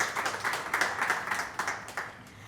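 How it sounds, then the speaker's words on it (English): An audience at a mining and energy media workshop applauds a bank executive, a brief burst of moderately close, fairly rhythmic clapping from a modest crowd that thins out toward the end, with no voices. "Give him a round of applause."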